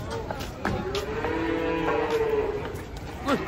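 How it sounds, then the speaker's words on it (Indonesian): Cattle being unloaded from a truck give a long, low moo that rises and falls, then a shorter call, amid muffled voices and clatter. "Cakep, 2 sapi datang."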